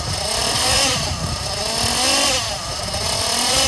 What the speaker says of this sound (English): Gonna give it some RPMs to let it get hot.